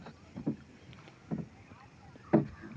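A small wooden boat is rowed on a river at sunset, with three separate soft knocking splashes of oars spaced about a second apart over quiet water ambience, and a voice murmurs faintly.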